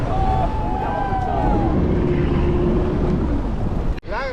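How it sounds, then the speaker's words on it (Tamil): A speed boat ride off Chavakkad beach near Guruvayur: a steady engine drone and rushing water with wind buffeting the microphone, loud and close, ending in a sharp splash or thump. "இது 2வது டைம் குருவாயூர் சாவாக்காடில் ஸ்பீட் போட்டில் 2வது ரைடு"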